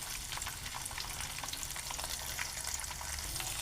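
Sliced bitter gourd stirred in a hot frying pan gives a steady, close sizzle with faint scraping, continuous for the whole stretch and with no voices.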